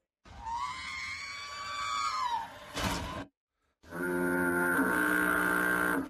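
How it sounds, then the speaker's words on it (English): R2-D2 from Star Wars lets out a shrill electronic robotic scream, a meme sound clip: a falling warbled wail, a sharp burst, a short gap, then a sustained harmonic squeal. "R2-D2's screaming noise"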